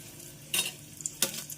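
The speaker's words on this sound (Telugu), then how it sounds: "ఒక టేబుల్ స్పూన్ ఆయిల్ హీట్ అయిన తర్వాత ముందుగా పోపు దినుసుల్ని యాడ్ చేసుకుందాం" Two sharp bursts of sizzling as spices hit hot oil, each crackle trailing off, with faint pan clinks in between.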